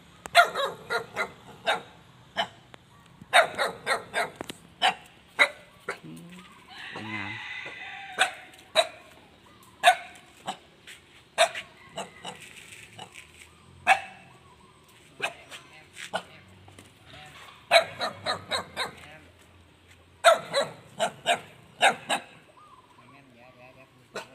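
A dog barks repeatedly in short bursts and clusters of yaps, moderately close, while someone talks over and between the barks.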